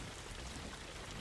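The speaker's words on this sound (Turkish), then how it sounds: "Şu yağmur sesi çok sinir bozucu." Continuous heavy rain hiss in the car game Jalopy, a dense, unbroken wash of drops heard alone without talking.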